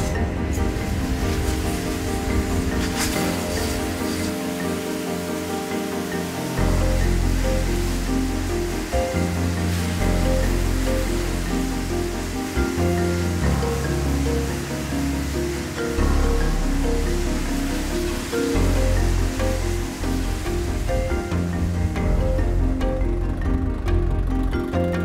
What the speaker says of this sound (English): we've invited members of the Corps Fire Brigade to come along and direct jets of water towards the facade to simulate a very rainy day